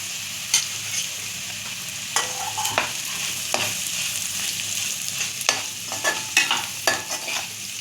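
Masala-coated pieces of elephant foot yam fry in a pan, giving a steady close sizzle broken by the scrape and clatter of stirring, with no talking.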